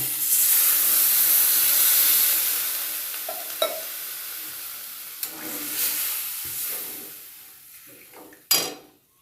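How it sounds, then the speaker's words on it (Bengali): Hot water poured into a pot of village-style Bengali potato curry, giving a loud, steady sizzle and hiss that slowly fades, with a few clinks of a utensil against the pot and a sharp knock near the end. "আমি এই পর্যায়ে গরম জল রোজকার মতন গরম জল ঢেলে দেবো"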